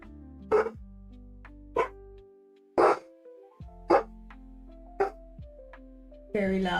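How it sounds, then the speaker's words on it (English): A dog barks loudly in sharp separate bursts, about seven over several seconds, in a quiet room. "I don't know why he's barking like that."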